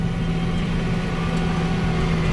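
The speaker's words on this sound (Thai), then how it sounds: "อันนี้เร่งเครื่องที่พันเจ็ด" A car engine held at about 1700 rpm hums in a steady, even drone with a low tonal note, close and unchanging for the whole stretch, with no talking.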